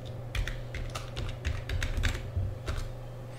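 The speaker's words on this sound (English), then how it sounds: "Put in my password." Fast keystrokes on a computer keyboard as a password is typed, a quick irregular run of close clicks over a constant low electrical hum, with no talking.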